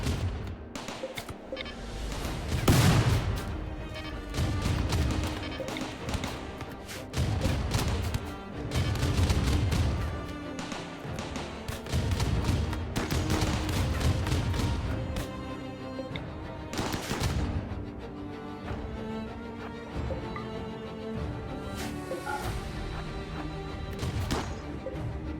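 RimWorld gunfire during a raid: dense bursts of rapid shots and heavy booms, clustered in volleys that come and go, loud and close, thinning toward the end into scattered cracks.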